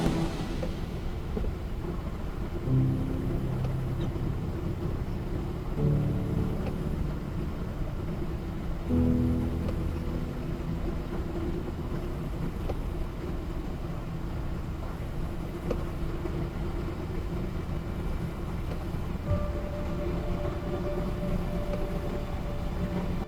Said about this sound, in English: That is, except for the engine noise my inline six puts out.